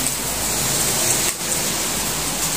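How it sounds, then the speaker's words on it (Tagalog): Heavy rain pours in a dense, steady hiss that stays loud and close throughout, with no voices over it. "Grabe lakas ng ulan, mga kalingap."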